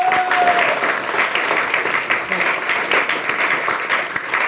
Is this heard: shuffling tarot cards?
no